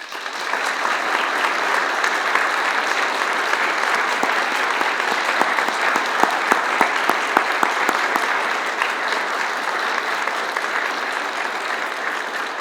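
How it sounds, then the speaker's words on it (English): Sustained audience applause at an Eagle Scout Court of Honor, a dense steady clapping from a large crowd lasting throughout, with a few sharper individual claps standing out near the middle. "let's give this Eagle Scout a big round of applause"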